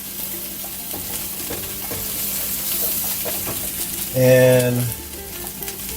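Rice coated in oil sizzles in a paella pan, a steady soft frying hiss with a louder scrape or stir near the end; one brief spoken word.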